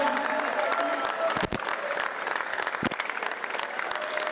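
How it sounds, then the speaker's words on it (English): A crowd applauds at the APPT Bali Open 2024 pro men's pickleball final, a dense, continuous patter of clapping with a couple of sharp knocks, while a voice on the PA talks faintly underneath. "give yourself a big round of applause, Bali"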